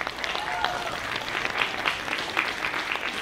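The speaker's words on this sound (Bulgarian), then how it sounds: "аплодисменти" Concert audience at a folk dance gala applauding after a children's dance troupe, steady dense clapping at moderate volume with no talk.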